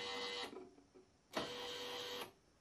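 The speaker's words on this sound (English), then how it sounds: "Focusing can be done manually or by using the electric lifting motor." Electric lifting motor on a ComMarker B4 60W JPT MOPA fiber laser engraver, running in two steady whirring bursts of about half a second and one second, separated by a quiet pause, close and fairly soft.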